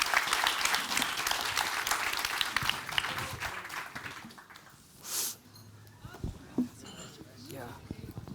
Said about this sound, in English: But I will not let you leave without giving a heartfelt applause to Hanna Kruger, Melle Smets, and Pallas Achterberg.